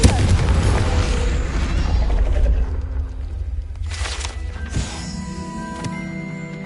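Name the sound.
Confringo blast spell exploding, from video game Hogwarts Legacy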